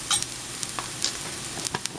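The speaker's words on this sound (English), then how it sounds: "the onion has started to caramelize" Onion caramelizing in a frying pan gives a steady low sizzle, broken by a few light stirring scrapes and clicks over two seconds, with no talking.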